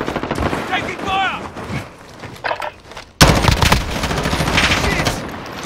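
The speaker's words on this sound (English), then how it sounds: "Taking fire!" Gunfire in a video game: rapid automatic bursts crackle near and loud, dropping off briefly before a sudden heavy volley erupts and keeps going, with voices shouting over the firefight.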